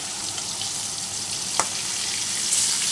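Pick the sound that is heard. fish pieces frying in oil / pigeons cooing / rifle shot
fish pieces frying in oil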